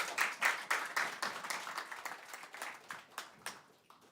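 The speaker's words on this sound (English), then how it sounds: "A round of applause." Audience applause rises at a crypto conference in Tallinn as a speaker is welcomed on stage, a dense, steady patter of many hands clapping that gradually thins and fades over a few seconds.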